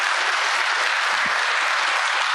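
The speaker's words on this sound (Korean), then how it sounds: "다시 한번 뜨거운 박수로 좀 격려해" Loud, continuous applause from a church congregation at a revival tent meeting, dense clapping filling the whole moment with no speech.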